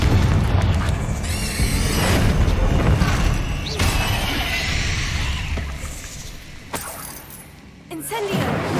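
Confringo blasting spell explosions in Hogwarts Legacy, several loud booms with crackling debris, one sharp burst near the end, amid continuous game noise.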